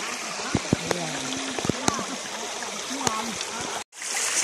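Clear stream water flows steadily through a forest, a continuous broadband rush with occasional clicks and faint voices mixed in, cutting out briefly near the end before resuming.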